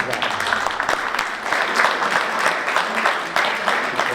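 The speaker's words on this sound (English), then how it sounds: "I'm going to applaud her for that." An audience at a community meeting claps in a sustained, steady burst of applause that holds at an even level throughout.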